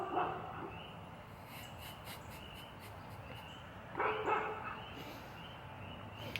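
Dogs bark in a few short bursts at moderate distance, rising most clearly near the start and again toward the end over steady background noise, with no voices.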